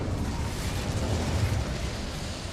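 Incendio fire spell cast in Hogwarts Legacy, a short roaring whoosh of flame with a deep rumbling burst, loud and sustained with no talk.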